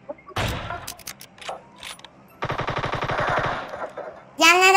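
Rapid automatic gunfire from a video game shooter rattles in several bursts, close and loud, between sharper mechanical clicks, ending in a long burst with a ringing tail.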